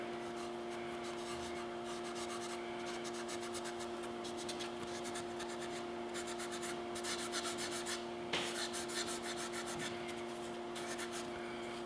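Walnut finish is rubbed into a wooden frame in quick, repeated dry strokes, a faint close rasping over a steady electrical hum.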